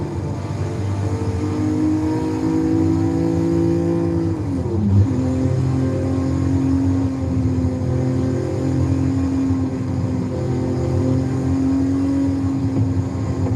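A Lamborghini Diablo cruising at night in Forza Horizon 5 gives a steady, mellow engine drone with a gear shift dip around the middle before settling into an even, sustained tone, heard alone without speech.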